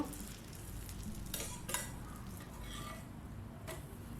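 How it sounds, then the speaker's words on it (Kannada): Tomato dosa frying in oil on a hot pan, giving a steady soft sizzle throughout with a few brief scraping clinks of a utensil, no talking. "ಮೇಲೆ ಸ್ವಲ್ಪ ನಾನು ಎಣ್ಣೆನ ಹಾಕ್ತಾಯಿದ್ದೀನಿ ನೋಡಿ ಎರಡು ಸೈಡು ಚೆನ್ನಾಗಿ ಬೇಯಿಸ್ಕೋಬೇಕು"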